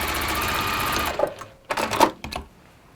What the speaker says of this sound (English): I'm gonna sew down one side there.